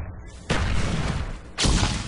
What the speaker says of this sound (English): Throws a flashbang.